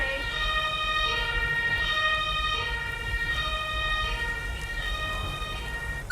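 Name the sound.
ambulance siren in emergency video game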